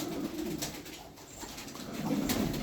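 Pigeons cooing in a loft, soft low murmuring coos repeating under a steady hiss of background noise, fairly near and continuous.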